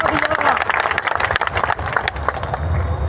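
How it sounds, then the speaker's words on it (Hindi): Crowd applause at a political gathering, a busy burst of many claps mixed with crowd noise and some voices, loud and dense before easing slightly near the end. "एक बार जोरदार ताली बजा दो भाई इसके लिए"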